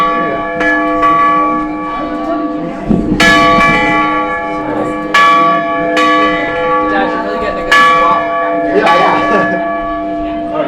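Revere church bells in Norwich, Vermont ring out in repeated loud strikes with long, shimmering overtones that hang and overlap, with faint voices in the background.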